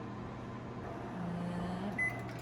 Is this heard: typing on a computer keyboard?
no